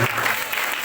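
Congregation at an evangelical church service applauding, a dense continuous wash of clapping that fills the short moment steadily, with voices mixed in.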